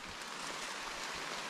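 Rain falling outdoors in the Northwest Vietnam countryside near a bird's nest, a faint steady hiss of drops with soft low thumps, no talking.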